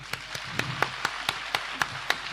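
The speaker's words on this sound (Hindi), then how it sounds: "जोर से पासल जी के लिए है ताली बजा दो" A congregation at an open-air Christian crusade prayer meeting claps in a steady rhythm, about ten even claps heard across a wide space.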